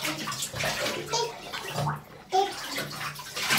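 A bathtub fills with running water, a steady rushing splash under faint household noise and children's voices in the background.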